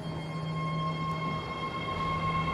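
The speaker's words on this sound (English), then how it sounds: "Alright, there you got the Berryessa train leaving." BART Berryessa train pulling out of the station, a steady loud electric hum with sustained tonal whine and rumbling rail noise throughout, no voices.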